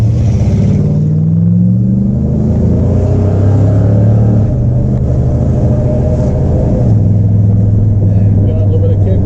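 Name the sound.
1969 Pontiac GTO Judge engine revving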